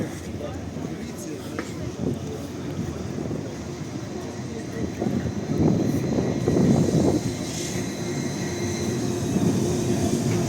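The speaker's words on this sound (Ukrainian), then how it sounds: "трамвайчик новий проїде повз нас двічка" A new, long number 2 tram rolls past on a busy Lviv street in the city centre at night before Christmas, a steady low rumble that swells as it passes close, with people talking nearby.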